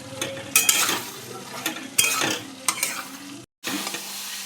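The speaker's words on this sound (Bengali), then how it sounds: "এবার কাঁচা সর্ষের তেল দিয়ে নাড়াচাড়া করে" Bean and potato curry is stir-fried in raw mustard oil, a loud close sizzle broken by repeated scraping strokes of a spatula against the pan, with a short gap of silence near the end.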